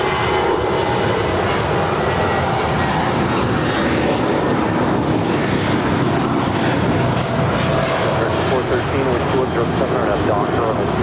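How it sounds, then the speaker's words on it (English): A United Airlines Airbus A320 departs from LAX, a loud, sustained jet engine roar with broadband rumble and whine that holds steady throughout the recording, with no talk over it. "That is United Airlines Flight 319 departing to Puerto Vallarta. It's an A320."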